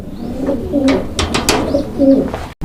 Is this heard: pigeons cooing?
yes